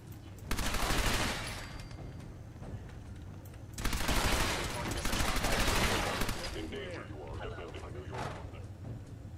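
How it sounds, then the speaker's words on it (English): Institute rifle gunfire in Fallout 4 comes in loud bursts of rapid shots, one around the start and a longer volley midway, with a softer rattle near the end and a person talking over the gaps. "Institute rifle."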